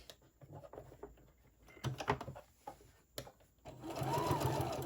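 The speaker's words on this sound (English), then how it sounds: "Just re-stitch, kind of go over where you stitched at." A sewing machine stitches a fabric face mask, running in short bursts with pauses between, then a longer steady run at the end; close and moderately loud, with no talk over it.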